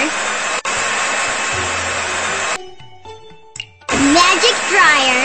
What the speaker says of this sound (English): Magic dryer!